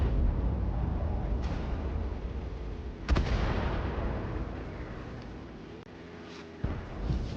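Heavy tank cannon shots in a video game boom over a constant engine rumble, with a sharp blast near the middle and another toward the end.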